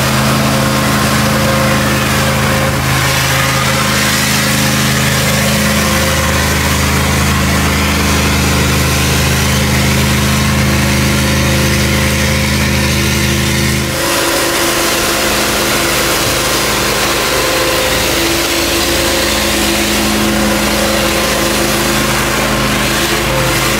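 An old heavy truck engine, from a Praga, Ural or Unimog, labors in low gear while slowly climbing a steep hill, producing a loud, sustained low drone that shifts in tone partway through.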